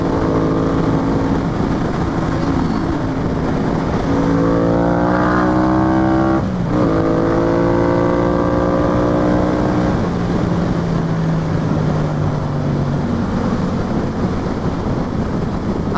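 A Yamaha FZ-07 motorcycle engine revs through several rising and falling sweeps, loud and close, with heavy wind noise buffeting the microphone throughout.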